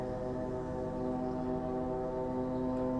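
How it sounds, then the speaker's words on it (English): A drone buzzes loudly and steadily overhead, a continuous droning hum with a strong tonal whine that holds without a break. "Dude, that drone is so effing loud."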